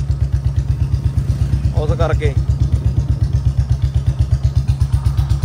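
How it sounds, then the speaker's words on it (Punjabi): A Royal Enfield Bullet motorcycle engine runs steadily with a loud, close, rhythmic low thump, and someone speaks briefly over it. "ਮੈਨੂੰ ਲੱਗਦਾ ਬੁਲਟ ਦੀ ਆਵਾਜ਼ ਜ਼ਿਆਦਾ ਆਉਂਦੀ ਹੋਊਗੀ"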